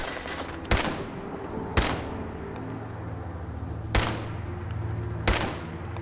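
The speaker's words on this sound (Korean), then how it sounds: "총소리 개 리얼해." Four sharp gunshots ring out at uneven intervals in the PC game Fallout 4, each a loud crack over a steady low hum of game ambience.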